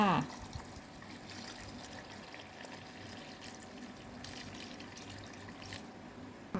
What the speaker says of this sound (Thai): เทน้ำยะนางใส่ลงไปเลยค่ะ